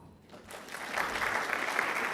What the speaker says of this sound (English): Just applause.